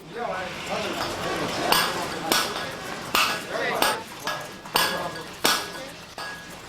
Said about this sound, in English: From chiseling the curves of a marble Buddha to sewing rags to make a monk's robe